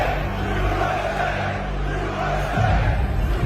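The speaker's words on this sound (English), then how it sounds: "welcomed by a roaring crowd of supporters," A large crowd at Madison Square Garden roars and chants USA in a dense, loud, continuous wash of voices, swelling slightly toward the end.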